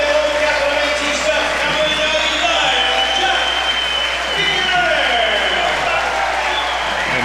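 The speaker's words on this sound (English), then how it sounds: "Di Vaio also gets a nice ovation from the crowd here at Stade Saputo" A stadium crowd at Stade Saputo applauds a substituted player, Di Vaio, during a Montreal versus New York Red Bulls soccer match: a steady, wide wash of clapping and cheering that carries on throughout, with a commentator talking over it.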